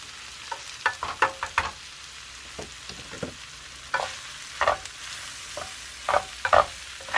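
Beef goes back into a hot pan with oil to brown, with intermittent scraping strokes of a stirring utensil over a low sizzle, close and without speech.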